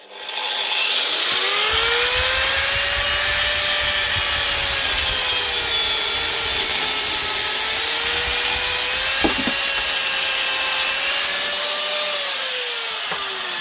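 A cutting disc grinding down the edge of a nut on a 125 motorbike project, a loud continuous high whine with shifting pitch lasting throughout, close up and alone with no talking.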